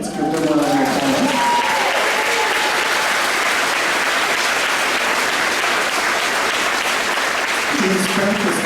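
Families at a fifth grade elementary school graduation applaud the teachers, a loud, continuous burst of clapping for several seconds, with voices briefly audible at the start and end.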